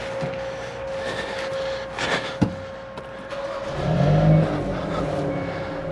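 A 2022 Hyundai Veloster N starts on the first try after a new battery is fitted: a brief crank at about two seconds, then a steady idle that swells for a moment before settling.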